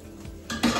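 Onions going into a cooking pot for rogan josh, a quick metallic clatter and scrape followed by a brief soft sizzle, close and short.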